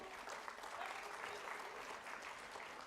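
Audience applause fills a hall at the Saksham 2022 event, a dense, steady wash of clapping that holds at an even level from start to finish.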